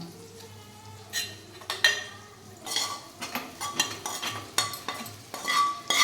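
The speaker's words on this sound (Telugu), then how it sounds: "ఇప్పుడు మనం మటన్ దీంట్లో వేసుకుందాం" Mutton goes into a hot pan with oil and frying spices, then sizzles while a metal spoon stirs and clinks against the pan in uneven bursts, close and fairly loud.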